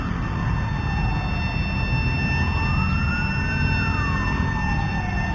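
A fire truck siren wails, rising and falling steadily over constant broadband traffic noise, moderately loud and somewhat distant.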